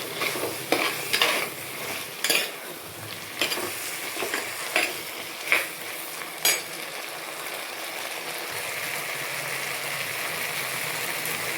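Dried fish curry masala with drumstick frying in a pan, a steady sizzle throughout with a spoon scraping and knocking against the pan in irregular bursts over the first seven seconds, no voices.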